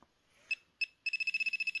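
An Ozon TC-110 pinpointer metal detector gives short electronic beeps: two separate chirps, then a fast even run of about ten quick pulses, faint and close in otherwise quiet surroundings.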